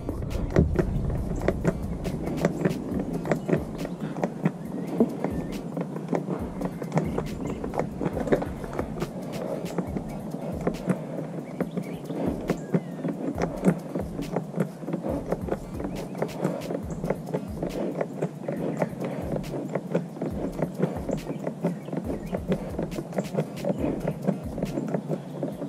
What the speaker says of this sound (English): So let's go ahead and give it a pump, and the process doesn't take long at all.